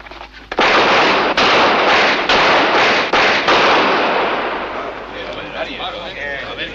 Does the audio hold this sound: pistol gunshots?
yes